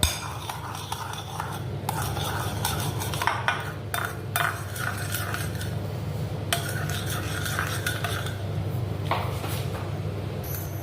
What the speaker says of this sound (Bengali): এরপর একটা নাইফের সাহায্যে এটাকে মিক্স করব।